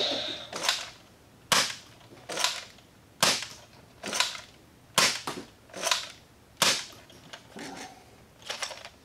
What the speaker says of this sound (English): I'm gonna start with this one because it fires full-length darts